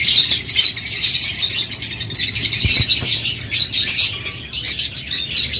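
Blue lovebirds at a bird seller's, a dense constant chatter of squawks and chirps from many birds close by, loud and unbroken with a few thumps beneath.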